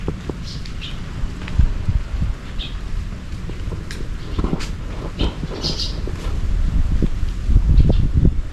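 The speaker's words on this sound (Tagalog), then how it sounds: "Ang lakas ng hangin." Strong wind blows outdoors in an open breezy spot, a steady rushing roar with buffeting gusts on the microphone that grow louder toward the end, alongside scattered faint rustling and clicks.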